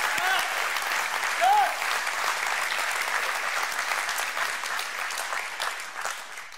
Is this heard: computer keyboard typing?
no